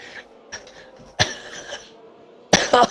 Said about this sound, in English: We have a massive coughing fit.